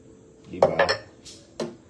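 Pots, plates and cutlery clinking while being washed by hand, with a few sharp close knocks and clinks separated by short pauses.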